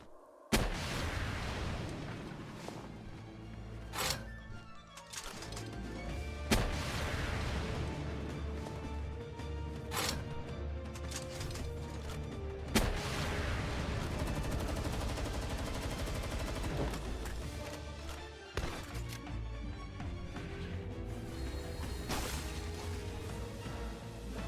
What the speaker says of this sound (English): We will get this party started with a rocket launcher.